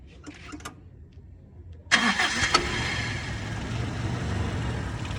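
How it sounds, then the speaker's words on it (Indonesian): A 1996 Toyota Kijang SSX is cranked and its engine fires nearly two seconds in, catching abruptly and settling into a loud, steady idle up close after a few faint clicks. "Kita coba nyalakan mesin, masih senyap sekali bos."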